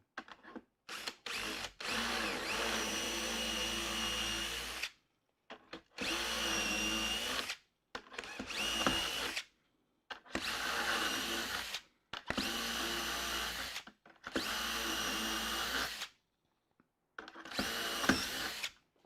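A power drill fitted with a 4.5 mm (3/16 inch) bit whines while drilling holes, in repeated bursts of a second or two each separated by short silences, close and fairly loud with no talking.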